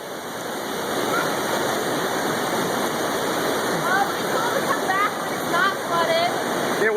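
Floodwater rushes loudly and continuously at a flooded Kentucky cave, a close, steady roar with faint bird chirps above it.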